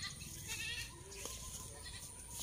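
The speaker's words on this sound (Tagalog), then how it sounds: "Ito po mga idol, yung kambing natin." A goat on a farm gives faint, thin bleats amid quiet outdoor background noise, heard at a distance with no talking.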